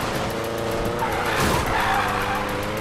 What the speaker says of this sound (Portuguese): O bicho tá driftando daquele modelo, hein?